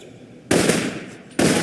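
Rifle gunshots from the video game Alpha Protocol sound as two sharp, loud bursts, one at mid-clip ringing out briefly and a second near the end, with a quiet lull before each.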